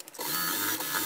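Sewing machine stitching a seam on a small animal carrier bag with mesh sides, a steady close mechanical whirr running without pause.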